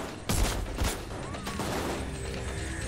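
Enemy gunfire in the video game Payday 2: two sharp, close shots, with a busy mix of game noise carrying on after them.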